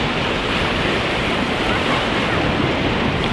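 Sea waves breaking at a breakwater on a Turkish hotel beach, a continuous loud rushing surf mixed with wind noise, close and with no voices.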